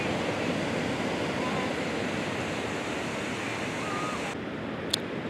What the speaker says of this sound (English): from the beach. Jenny's State Park, to be exact, in Rye, New Hampshire.